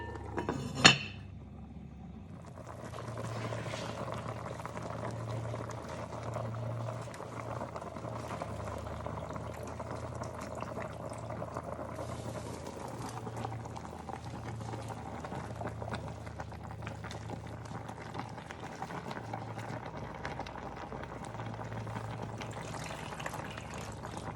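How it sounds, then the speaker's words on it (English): Cajun turnip greens with pigtails boiling in a covered pot, a steady close bubbling and simmering that runs throughout after a sharp clink of the lid at the start. "I'm gonna put a top on them so they'll cook down a little bit"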